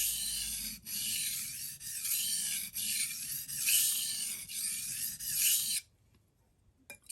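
A knife blade scrapes rhythmically across a worn, hollowed sharpening stone, a close, gritty rasping in repeated strokes with brief breaks, ending in near silence.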